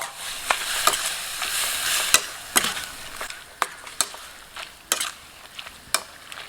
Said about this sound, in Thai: ใส่ไปผัดต่อ